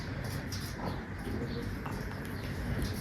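Soft, low cooing of a racing pigeon murmurs continuously against a steady background hum, with no clear pauses.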